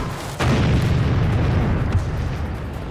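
A tank cannon fires in World of Tanks, where a player in an AT-2 tank destroyer is trading shots: a single heavy boom hits suddenly and leaves a loud, rumbling low tail that fills the rest of the moment.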